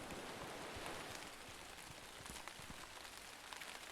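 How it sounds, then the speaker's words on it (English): Steady rain falls on surfaces in the horror game Railgods of Hysterra, a dense continuous patter with scattered droplet ticks, heard alone without voices. "It's raining."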